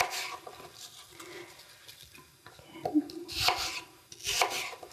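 Apples cut into pieces on a board, a few quiet knife chops and taps spaced irregularly at close range, with no talk.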